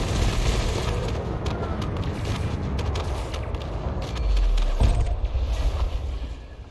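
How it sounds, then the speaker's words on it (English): Rapid bursts of overcharged, oversized multi-cannon fire from a ship in the space combat game Elite Dangerous, a dense rumbling barrage with heavy booming impacts swelling toward the end, no talking. "now we start shooting. There's a lot of overcharged, oversized multi-cannons on this ship."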